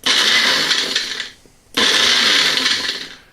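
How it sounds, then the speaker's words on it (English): A Magic Bullet blender pulse-grinds light, dry bay leaves in two loud bursts of whirring blade noise, with a short near-silent pause between them. "The easiest way to grind your bay leaves is to do the pulse method."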